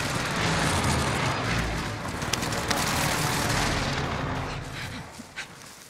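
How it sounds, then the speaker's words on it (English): Precision airstrike explosions from Call of Duty Warzone on Rebirth Island, a loud, continuous rumbling barrage of booms and gunfire-like blasts that fills the clip before easing off near the end. "Allied precision airstrike incoming."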